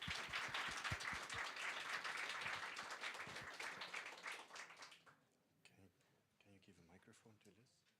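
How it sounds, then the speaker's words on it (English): At a science conference session on Arctic marine ecosystems, an audience applauds the speakers with several seconds of dense clapping that fades out, followed by a voice speaking. "I would really like to ask for an applause for the excellent science that they've presented here."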